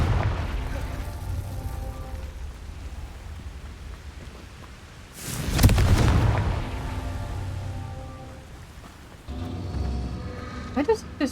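Confringo fire spell blasting in a wizard video game, one loud burst near the middle rising from a low rumble of game ambience, then crackling debris and a brighter clatter near the end.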